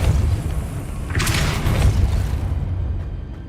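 Spell effect from a Harry Potter video game: a loud, dense burst of energy swells over a steady low rumble, flaring brightly for about a second before settling back.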